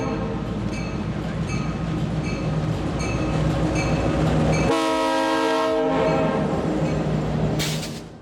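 Horn of a GP38-3 diesel locomotive sounds close and loud in one blast of about a second, set against the steady rumble and clatter of a passing train.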